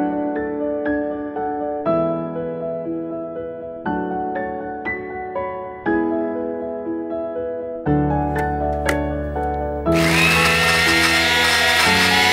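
Mango pieces are blended smooth in a kitchen blender: a loud, steady motor whir bursts in over the last couple of seconds, following a stretch of tonal background sound.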